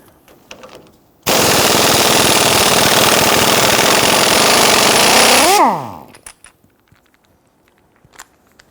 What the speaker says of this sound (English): On the top, we're going to use our impact gun.